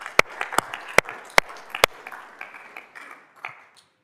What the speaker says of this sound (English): Let's give a round of applause to all our sponsors.